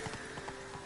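The horse Roach's hooves clip-clop in a steady trotting rhythm within The Witcher 3, quiet and brief, over a steady game soundtrack hum.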